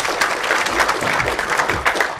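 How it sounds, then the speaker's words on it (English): An audience breaks into loud, dense applause for a volunteer at a live memory demonstration, many hands clapping together in a steady close wash that holds for the whole stretch. "round of applause for Daisy"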